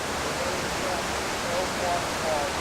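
Steady rushing roar of a waterfall in the backcountry during an off-trail backpacking scramble, constant and broad, with faint tonal chirps above it.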